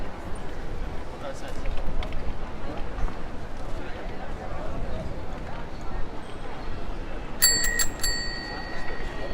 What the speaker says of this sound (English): Hey, I had to ring my bell.